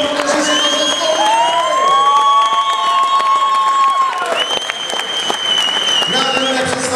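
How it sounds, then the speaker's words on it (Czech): Loud, steady applause and cheering from a crowd at a boxing gala, the Franco Memorial in Pardubice, celebrating two fighters, with sustained tonal music-like lines running through the clapping. "Ještě jednou prosím opravdu velký aplaus obou bojovníků, protože si to zaslouží."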